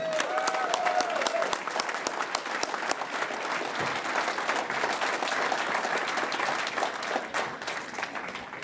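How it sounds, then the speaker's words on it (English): Sustained applause fills the hall for an inductee at a sports hall of fame induction ceremony, a steady broad wash of many hands clapping at fairly even loudness throughout, with a faint murmur of voices early on. "Big round of applause for Freddie."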